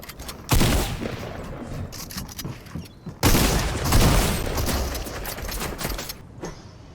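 Dense video game gunfire from a shootout with several opponents crackles in rapid bursts, loud and close, with a sharp surge partway through and no talk over it.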